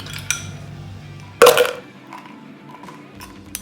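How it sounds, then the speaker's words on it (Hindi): Ice cubes tumble into a container for falsa juice, a single sharp clattering clink burst after a few light taps, followed by quieter small knocks. "सबसे पहले मैं आइस क्यूब्स डालूंगी।"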